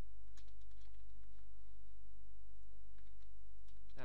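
Keys on a computer keyboard clatter faintly as Python code is typed, a scattered run of soft clicks over a steady low hum.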